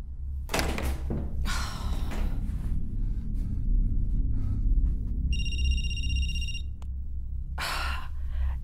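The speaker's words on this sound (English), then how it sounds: "I'm just down the hall trying to be professional and you're banging on the walls" Heavy thumps and bangs against walls in the horror game Night Book, several loud irregular knocks with gasps and shuffling between them, plus a brief electronic tone.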